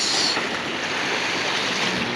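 Ocean waves wash against the shore at Bato, Leyte, a steady broadband surf rush heard close and constant for a couple of seconds without voices.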